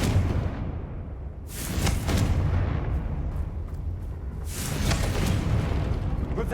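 A Confringo blasting spell explodes in the Hogwarts Legacy video game, heavy booming bursts with rumbling low end, two big blasts separated by a brief lull, no voices.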